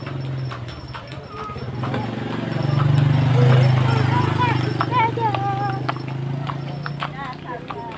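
Horse hooves clip-clop steadily during a ride at Telaga Sarangan, with people talking over the rhythmic plodding and occasional bird calls in the background.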